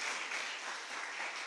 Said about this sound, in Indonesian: Kita berikan tepuk tangan pada One Vision.